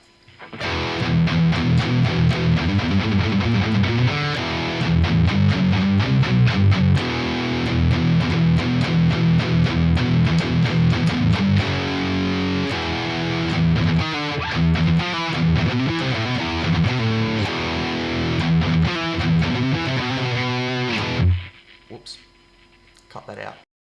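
A heavily distorted electric guitar through a scooped high-gain Archetype Nolly X amp plays chunky riffs with booming lows and thin mids, loud and continuous, then cuts off near the end.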